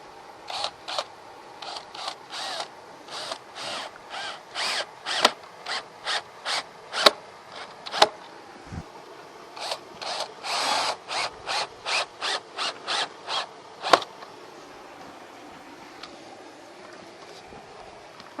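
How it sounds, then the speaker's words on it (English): Screws are driven into a new window frame set in an old stone wall, producing rows of sharp, evenly spaced ratcheting clicks in bursts, with short pauses and a few louder knocks between them. "So I'm just going to put a couple of screws in the ends just to hold it in place"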